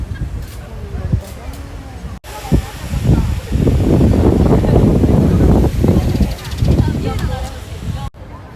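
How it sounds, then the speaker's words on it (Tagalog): Gusty wind buffets the microphone in heavy roaring bursts at a rose garden in Yamashita Park, Yokohama, with a voice speaking briefly before and after. "Mahangin dito"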